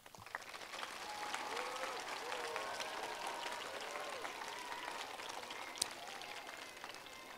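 Elementary school students applaud their teachers at an outdoor ribbon-cutting ceremony, a soft, distant, continuous patter of clapping with a few children's voices calling out over it.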